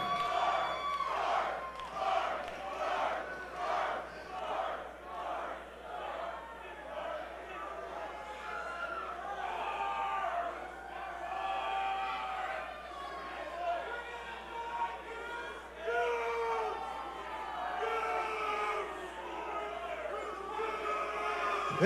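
A crowd at a live wrestling-style event cheers and yells steadily throughout, loud and close, with shouts and whoops rising in bursts over a constant roar.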